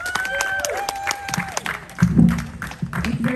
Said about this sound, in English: Everybody, round of applause for Council Member Jill Galvez, District 2.